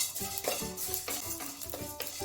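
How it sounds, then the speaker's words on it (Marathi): Whole spices dry-roasting in a pan for matar kachori masala, with repeated scraping and stirring strokes of a spoon against the metal and a light crackle underneath, close and steady, no voices. "थोडासा कलर चेंज होईपर्यंत आपले मसाले भाजून झालेले आहेत"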